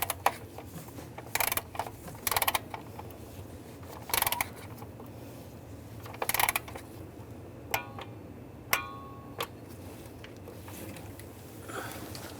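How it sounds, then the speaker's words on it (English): A torque wrench tightens valve cover bolts on a Ram 1500, giving repeated short bursts of ratcheting clicks spaced a second or two apart, then a few single sharp clicks, close and fairly quiet. "Now we're going to torque these to 89 inch-pounds."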